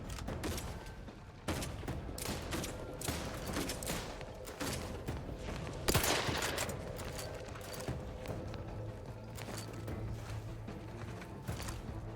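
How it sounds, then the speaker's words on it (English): Scattered distant gunfire in the video game Outer Worlds 2, a busy volley of sharp cracks over a steady bed of ambient game noise, with one louder burst midway. "What are you shooting at way down there?"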